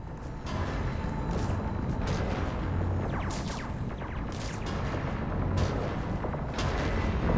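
Cannons fire in a Mass Effect 3 battle, with heavy booming blasts repeating across the whole stretch over a constant loud, rumbling wash of combat noise.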